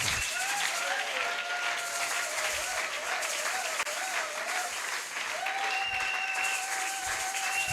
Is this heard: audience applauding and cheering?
yes